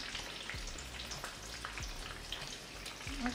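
Coated shrimp frying in a pan give a quiet, steady sizzle with scattered small pops and crackles close by, continuing evenly throughout.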